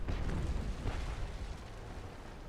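Enemy ship's cannons firing in the Naval Action game, a dull booming rumble that swells loudly at first and then fades away, with no talking.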